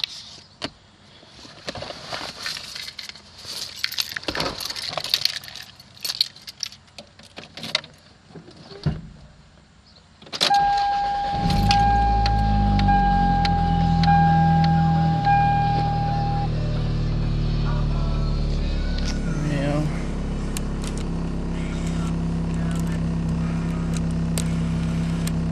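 A 1990 Toyota Celica GT-S starts after about ten seconds of handling noise and clicks: the starter whirs briefly, the engine catches, and a steady, close idle runs on to the end, rising slightly near the finish.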